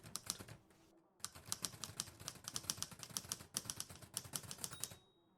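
Typewriter keys struck hard and fast by a single typist, a dense run of sharp clacks with a brief pause near the start, close and alone.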